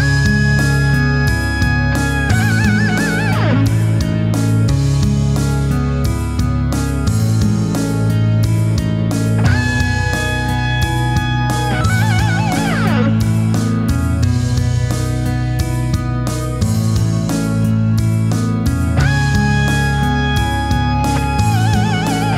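An electric guitar plays basically two sustained, expressive notes with bends and vibrato over a steady backing band with drums and bass.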